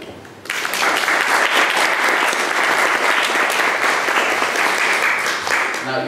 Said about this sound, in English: So let's just give a round of applause to our very special guests, Posy Simmonds from London and Barbara Yelin